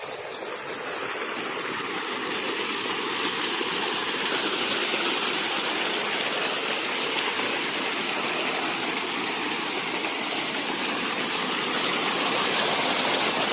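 A battery-powered motor taken from an electronic pump pushes water mixed with jeevamrut on a farm, producing a steady, loud rushing gush of flowing water with a faint motor hum underneath, continuous throughout and without any voices.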